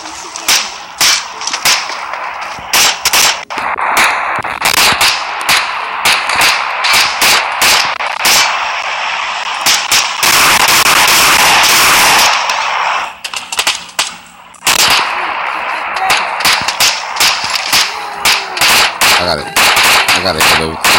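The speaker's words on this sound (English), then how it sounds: "I'm getting shot." Gunfire hits the player in the PUBG video game as loud, close shots rattle in rapid bursts, with a dense stretch of continuous fire midway and brief pauses between volleys.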